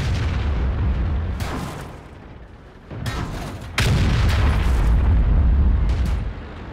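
Heavy tank cannon shots boom in World of Tanks, several loud blasts with long rumbling tails, one hitting especially hard near the middle, with no talking over them.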